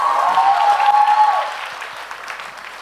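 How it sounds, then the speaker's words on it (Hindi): An audience at a quiz event in Jaipur claps loudly for about a second and a half, then the applause thins out into scattered, fading claps. "तालियां बजाइए मैम के लिए"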